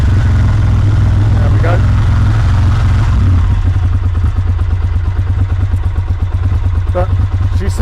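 A Ducati Monster motorcycle engine, not run for a while, rumbles loud and close with a steady, throbbing idle that settles into an even pulse, while a voice speaks briefly over it.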